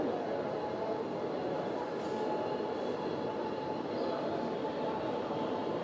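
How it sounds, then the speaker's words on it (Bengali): Kolkata–Balurghat Express (13161) running after departure, a steady continuous rumble and rattle of rolling wheels on rails, loud and even throughout from inside the train. "বারোটা ছাপ্পান্ন ট্রেন ছেড়ে দিয়েছে"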